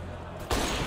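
Gunfire from a first-person shooter during a Brazil vs Sweden showmatch, unscoped shots fired through smoke, bursting in loud and sudden halfway through after a quieter stretch of game noise.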